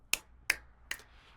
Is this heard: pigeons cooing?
no